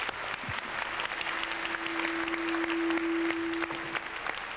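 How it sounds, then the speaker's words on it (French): A studio audience at a French television variety show applauds the guest stars with sustained, even clapping that fills the room, while a steady tone runs through the middle of it. "Je vous propose de les applaudir comme des stars."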